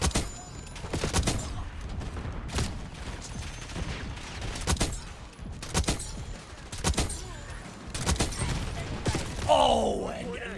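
Frostline sniper rifle shots in Call of Duty, a series of loud sharp cracks spaced a second or so apart, with game effects and a voice briefly in the background.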